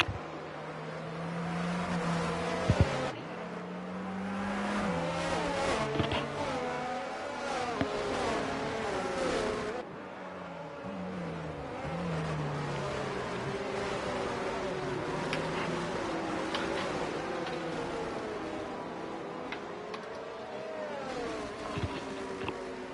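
Racing engines from Ferrari and other cars in a Japan Grand Prix sim race hum and rise in pitch as they lap the circuit, a steady, continuous roar with shifting revs and a commentator talking over it throughout.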